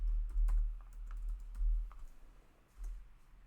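Keys clatter in short irregular bursts on a computer keyboard while an email address and password are typed in, the tapping close and moderately loud with small pauses between runs.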